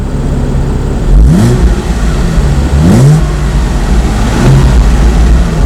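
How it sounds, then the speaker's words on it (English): A 2012 Porsche Boxster S engine revs hard three times with its exhaust valves open in a parking deck, each blip rising and falling with a deep, aggressive exhaust note, loud and close with no talking. "these are a few revs with the valves open"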